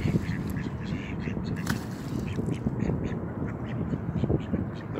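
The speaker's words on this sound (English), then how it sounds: "Oh, look at this, the ducks." Several ducks quacking close by, with three males coming up for food at a pond, giving a steady overlapping chorus of loud quacks.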